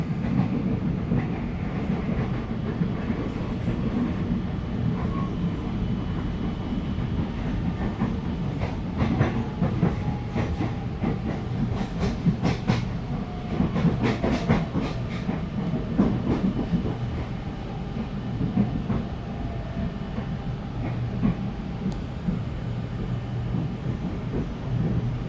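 An INKA CLI-225 KRL electric commuter train runs steadily, a continuous low rumble with rail clatter and brief high squeals around the middle, heard from inside the car at constant loudness.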